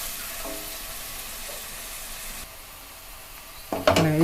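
Garlic frying in a pan gives a soft, even sizzle that hisses on close by, then a louder burst of sizzle and clatter near the end.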